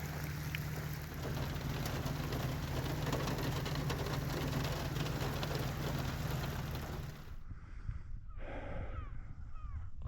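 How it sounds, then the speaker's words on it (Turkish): Steady hiss of rain falling beside a trout-fishing spot near Elazığ, filling most of the clip before stopping abruptly, after which distant crow caws sound out. "Yağmur yine geliyor arkadaşlar."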